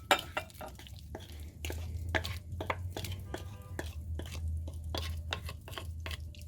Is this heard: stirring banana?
yes